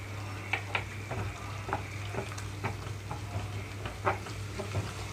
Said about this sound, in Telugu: మీడియం ఫ్లేమ్లోకి టర్న్ చేసి వేయించుకుంటున్నాను